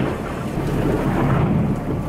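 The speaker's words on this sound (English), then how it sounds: "a large rumbling thunderstorm had been brewing in the atmosphere" Deep thunder rolls through a thunderstorm near Johannesburg, a loud continuous low rumble blended with steady rain, with no voices.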